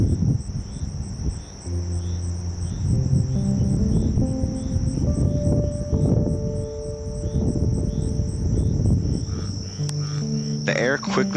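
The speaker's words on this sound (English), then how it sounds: "the sounds of the frogs and insects begin to intensify" At nightfall at Cape Point Campground on Hatteras, insects and frogs chorus together, a steady high-pitched cricket trill running throughout, with deeper croaks and calls underneath and a mid-level background hum.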